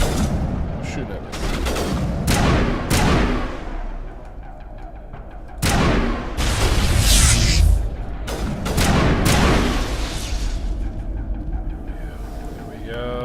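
Automatic gunfire from hostile drones in the Mass Effect video game, a series of loud bursts and booms that rise and fade across the span amid layered combat noise.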